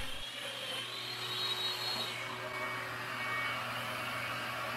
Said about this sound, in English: Take your domino and make two mortises using the same reference lines you just marked.